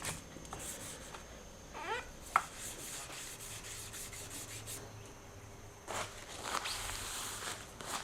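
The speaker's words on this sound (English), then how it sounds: "you know you need to keep sanding. Now you just want to go easy." Sandpaper rubs along a Stratocaster guitar neck in a workshop, soft, close, intermittent strokes with a brief sharper scrape, quiet and without talk.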